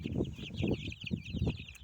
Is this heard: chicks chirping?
yes